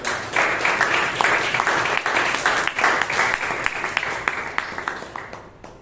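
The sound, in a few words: round of applause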